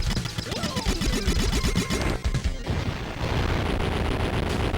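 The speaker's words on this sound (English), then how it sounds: "Just spam bombs." Chaotic, loud bursts of explosions and rapid blasts from bombs going off in a Sega Genesis action game, dense and continuous with crackling chiptune-style noise and no voices.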